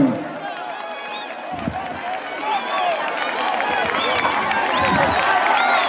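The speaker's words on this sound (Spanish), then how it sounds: "el público que emociona, el público que aplaude" A bullfight crowd in the plaza at La Unión, Dos de Mayo, Huánuco, Peru, applauds the matador in a steady, dense wash of clapping and cheering, with a commentator talking over it.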